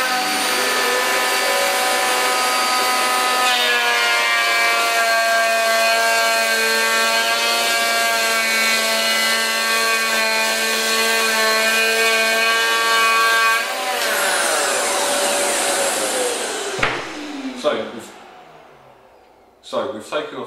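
Festool EHL65 EQ electric planer taking a 2.5 mm pass off wood with dust extraction attached: a loud, steady high-pitched motor whine that holds for about fourteen seconds, then winds down, followed by a few sharp knocks and handling clatter.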